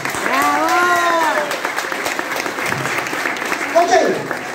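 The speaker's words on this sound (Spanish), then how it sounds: "un fuerte aplauso para Melissa y para Diana también" Strong audience applause fills the room with continuous dense clapping, while a voice calls out and cheers briefly over it near the start and end.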